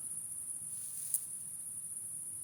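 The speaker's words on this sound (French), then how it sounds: "Ah oui, on entend les grillons." Crickets chirring outdoors at night, a faint, steady high-pitched trill that runs unbroken through the quiet with no voices.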